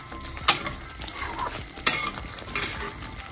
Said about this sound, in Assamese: ধুনীয়াকৈ ভাজি দিম এইখিনি মিলাই দিম